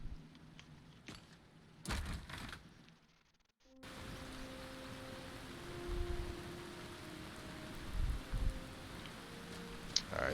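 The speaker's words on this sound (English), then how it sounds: "It's still raining out." Rain falling in a video game, a soft continuous hiss of drops that starts after a few scattered knocks and a brief lull, with faint tonal hums and occasional thumps.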